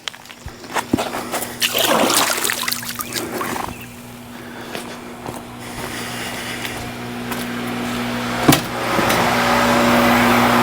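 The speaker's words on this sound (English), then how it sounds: "Wash my hands off in the pool." Water splashes and sloshes in an outdoor swimming pool as hands are rinsed off, a steady low hum running underneath throughout.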